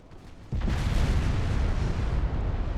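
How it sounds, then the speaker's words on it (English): Torpedo hits exploding against a ship in a naval battle game, a sudden heavy blast that swells into a long, loud rumbling roar with crackling debris. "Two torpedo hits on Lepanto"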